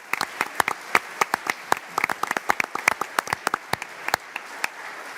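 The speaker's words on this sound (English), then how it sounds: "So please, a round of applause for those two folks." Scattered audience applause at a university lecture event: sparse individual claps, fairly close and moderate in volume, thinning toward the end.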